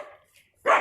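Faint murmuring sounds give way to one sharp, loud dog bark close by near the end.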